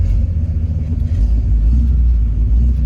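A Chevrolet Bel-Air barn find car is driven with a constant low, heavy engine rumble close up and loud, holding steady without clear revving peaks.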